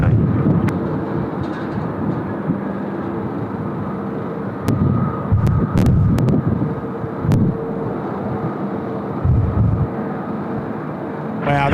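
A Korean Air Boeing 787-10 touches down on runway 16 right at Sydney Airport, a steady roar with buffeting wind noise on the microphone and swelling louder rumbles.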